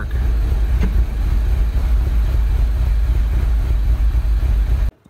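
A MINI car engine idles roughly in park, a loud, dense low rumble that runs continuously up close for about five seconds before cutting off abruptly.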